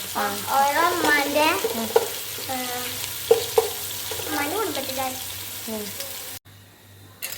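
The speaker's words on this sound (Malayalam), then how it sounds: "അപ്പോൾ മീനോട് ഫ്രൈ ആയിക്കൊണ്ടിരിക്കുന്നുണ്ട്" Fish frying in a pan gives a steady sizzle beneath continuous talking, with a few sharp clinks; the sizzle drops away abruptly near the end.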